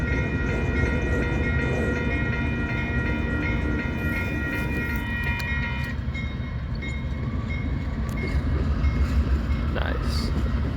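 A train rolls past during railfanning, a loud steady rumble of wheels and cars with a sustained horn-like tone in the first half, heard close and continuous.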